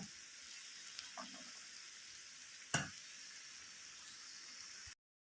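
Bajji batter sizzles in hot frying oil with a steady, soft crackle, interrupted by a brief sharp clatter near the end. No voices are heard.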